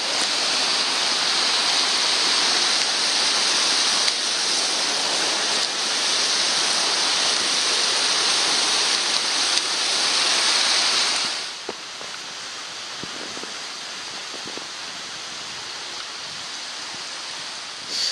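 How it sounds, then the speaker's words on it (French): Rushing water of a mountain torrent in snowy alpine terrain roars loud and continuous as a dense broadband wash, then drops suddenly to a quieter, softer flow in the final seconds. "Et donc là on rejoint le torrent, magnifique avec cette neige, c'est splendide."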